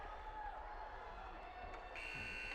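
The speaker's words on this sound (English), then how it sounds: "And as the buzzer goes" Period-end buzzer in an ice hockey arena during an under-13 game, a steady electronic tone sounding in the final second under crowd noise and distant rink ambience.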